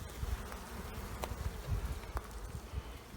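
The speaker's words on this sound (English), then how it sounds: "But they are loaded with bees." Spring honey bees swarm through an opened hive box packed wall to wall, giving a dense, steady close buzz with faint clicks and handling knocks.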